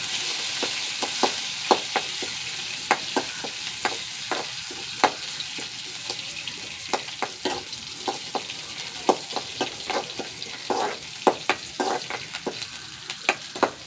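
Fresh curry leaves fry in hot oil with a steady, hissing sizzle. Sharp crackles and pops run through it throughout, close and uninterrupted.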